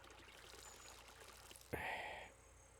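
Water poured from a canteen in the survival game SCUM, a short loud splashing gush lasting about half a second after a quiet stretch of background ambience.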